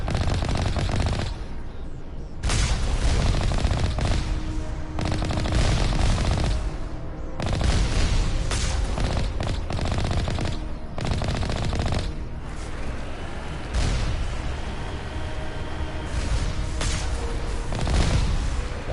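Automatic turrets in Mass Effect rattle off dense, repeated bursts of gunfire, with booming impacts punctuating the loud, nearly continuous barrage.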